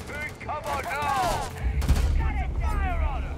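Gunfire in the Starfield video game during very hard combat, a dense burst of shots under and between voices shouting in the game.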